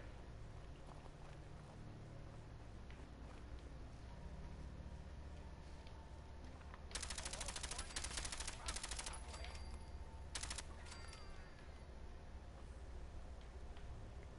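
Gunfire in Fallout 4 bursts in loud, dense volleys between about seven and eleven seconds, standing out from steady ambient game noise and faint background sounds.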